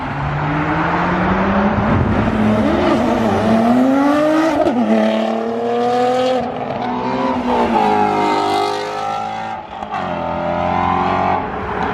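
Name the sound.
Nissan GTR and muscle cars arriving at car meet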